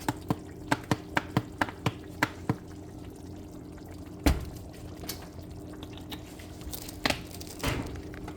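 Palm oil pours into a pot of cassava leaf stew, with a series of quick regular drips and splats early on, then quieter liquid sounds and a few louder plops, close by and without talk.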